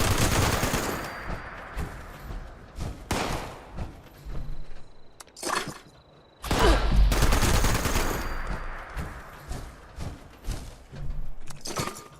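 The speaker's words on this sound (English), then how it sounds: "somebody's shooting at my camp" Rapid automatic gunfire in Fallout 76 rattles in sustained bursts aimed at a player's camp, loud and dense with brief lulls, no talking.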